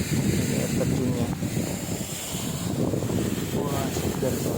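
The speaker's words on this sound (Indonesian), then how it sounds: "anginnya juga angin dari air terjunnya" Wind blowing off the waterfall at Curug Pasir Reungit in Pamijahan, Bogor, a loud, steady broadband rush with gusty buffeting against the microphone that continues for the whole stretch.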